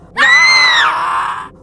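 Ghostly shadows let out a single loud, shrill scream together as a horror story effect, a piercing wavering wail that rises, holds and slides down over about a second and a half.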